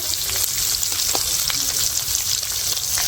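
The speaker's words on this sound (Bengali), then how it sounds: "সকালে রান্না হচ্ছে ডিমের তরকারি" Egg curry cooking in a pan for a morning meal in a village kitchen, a steady close sizzle and bubbling with occasional stirring scrapes, no talk.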